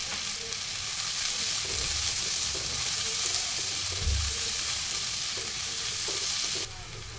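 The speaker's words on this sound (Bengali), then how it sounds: "পেঁয়াজটা লাল লাল করে ভাজা হয়ে গেছে।" Onion and bay leaf frying in hot mustard oil in a kadai, a steady, close, dense sizzle running throughout with faint stirring scrapes underneath.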